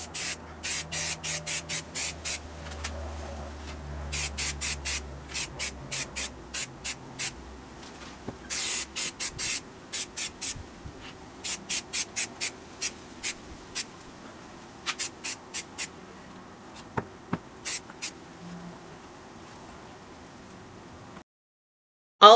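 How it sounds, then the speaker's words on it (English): Short bursts of Rust-Oleum spray paint hissing from an aerosol can in rapid pulses, some long and some brief, with quiet pauses between, close to the microphone. "We're going to have to fix that really easily with some spray paint."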